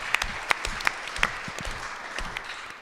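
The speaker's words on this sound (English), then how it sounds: "so a big round of applause for them as well" A live-streamed civic event audience claps briefly, a few sharp individual claps standing out over a thinner scattered patter that continues for a couple of seconds.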